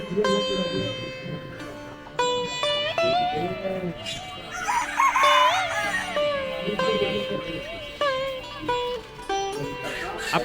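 A rooster crows loudly at close range amid hens clucking at a rural village market, with a person talking over the birds throughout.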